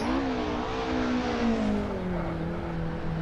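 A tuned Toyota AE86 revs hard in Assetto Corsa on the Nordschleife, its engine note climbing and holding loud and steady, then easing slightly lower, with no talk over it.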